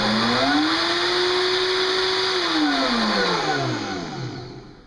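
A VitaMix 4500 or BlendTec HP3A blender, or an Omega blender, running a smoothie at high speed: a loud motor whine that climbs, holds steady, then drops in pitch as it winds down.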